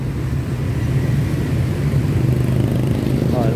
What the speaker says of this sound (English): So many motorbikes.